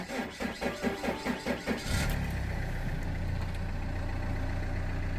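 Vauxhall Insignia engine cranks with a rapid rhythmic churn, then catches and settles into a steady, even idle, close and clear with no talk.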